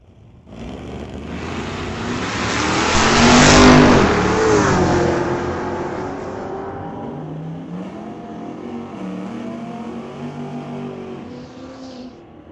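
A Chevy Malibu and a Chevelle launch at a drag strip, engines swelling into a loud roaring surge that peaks and fades as the cars pull away, leaving a distant engine drone.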